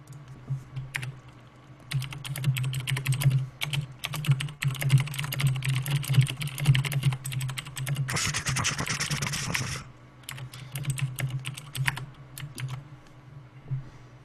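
Rapid typing on a computer keyboard, steady clatter of keys running under a low hum, with a denser burst of clicking in the middle stretch.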